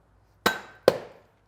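Two sharp hammer blows on a block of wood, knocking out a trailer wheel bearing, each crack ringing briefly and decaying; close and loud, about half a second apart, with no talking.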